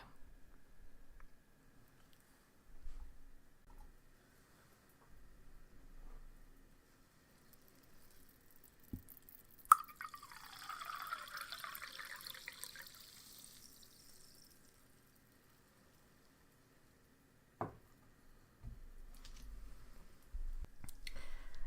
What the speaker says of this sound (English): Let me go ahead and pour that for you.